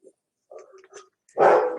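A dog gives short, muffled barks and yips, then one louder, rough bark close by, with quiet gaps between.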